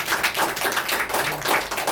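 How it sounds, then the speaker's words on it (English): Brief clapping from a small group at a question-and-answer session, uneven individual claps close by that carry on for a couple of seconds. "give a huge round of applause for Monica."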